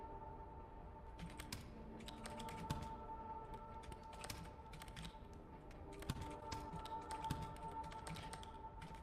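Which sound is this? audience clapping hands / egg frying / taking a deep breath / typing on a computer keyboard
typing on a computer keyboard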